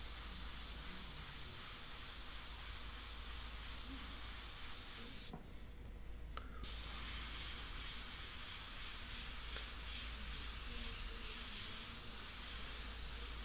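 Airbrush spraying India ink onto paper for a portrait gives a steady, close hiss that runs almost the whole time, with one brief pause midway before the spray resumes.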